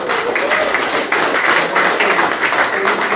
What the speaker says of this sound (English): can we give our speaker one more round of applause